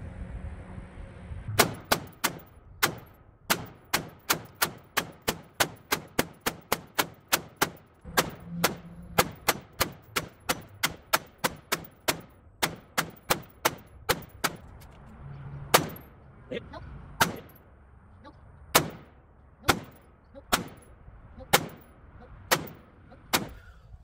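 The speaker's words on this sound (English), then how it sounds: "I shot about 60 rounds at 100 yards" A Radical Firearms AR-15 rifle fires about sixty rounds at a target 100 yards away, sharp loud cracks in steady rapid sequence at first, then spacing out into slower individual shots with brief pauses.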